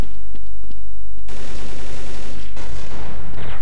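Counter-Strike gunfire bursts out loud and dense, a sustained rattle of rapid shots filling the second half after a few sparse pops, with a brief break before firing resumes.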